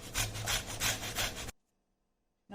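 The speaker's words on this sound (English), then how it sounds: "Now I have grated the bottle gourd." A peeled bottle gourd is grated in quick, rhythmic rasping strokes, close and loud for about a second and a half, then silence before another stroke begins.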